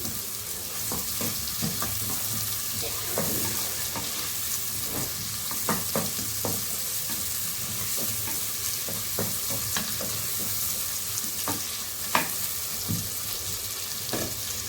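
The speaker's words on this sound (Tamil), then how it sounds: "2 வெங்காயம் மட்டும் வச்சுருக்கேன். இதையும் போட்டுக்கலாம். போட்டு இதை நல்லா வணக்கிக்கலாம்." Onions sautéing in a pan for mushroom biryani make a soft, continuous sizzle, broken by repeated scraping and clinking of a spoon stirring against the pan.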